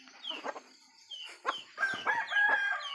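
Several chickens cluck and squawk nearby in overlapping bursts, growing busier toward the end, with a faint crow among them.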